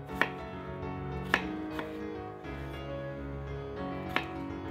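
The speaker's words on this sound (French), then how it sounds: "On les coupe en morceaux de 2 à 3 cm de côté." A knife cuts peeled, washed potatoes into 2 to 3 cm chunks, giving sharp, isolated chops on a cutting board at an uneven pace, close and clear with no talking.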